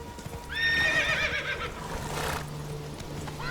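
Roach, a horse in the video game Witcher 3, gallops with close, rhythmic clip-clop hoofbeats, while a loud whinny rises over the hooves partway through.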